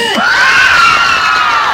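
A crowd at a village fair performance cheers and shouts, with bright whistle-like tones sweeping over a steady roar of voices, loud and close for a couple of seconds.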